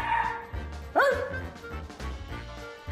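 A small dog gives a couple of sharp, high yips and barks up close, with a quick rising bark standing out in the middle.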